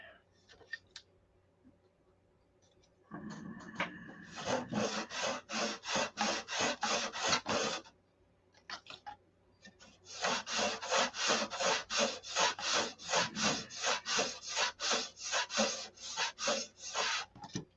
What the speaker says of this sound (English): Take the edge off all of them. You don't have to round them, just have to take the edge off.